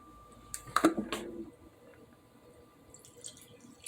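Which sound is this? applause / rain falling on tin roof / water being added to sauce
water being added to sauce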